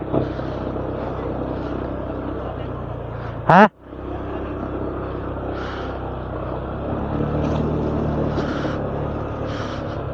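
A motorcycle engine runs steadily throughout while crossing a deep river, with a brief loud splash or clunk partway and a short spoken exclamation over the droning motor.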